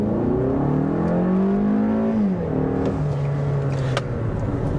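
A 2023 Lexus NX 250 accelerating from a dead stop in a parking lot, its engine note rising steadily in pitch, dipping at a shift, then settling into a lower steady drone, heard from inside the cabin.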